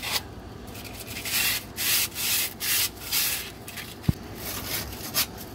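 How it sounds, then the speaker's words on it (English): Hand sanding of a rusty truck undercarriage with sandpaper, clearing loose rust from hard-to-reach spots: repeated close scratchy rubbing strokes in bursts, with one sharp knock partway through. "I'm just hitting with some sandpaper, get the loose stuff off."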